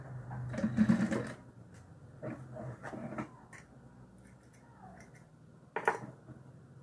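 A sewing machine stitches a seam in short bursts, loud and close at first, then softer intermittent runs and a final brief burst, with a few soft handling noises between.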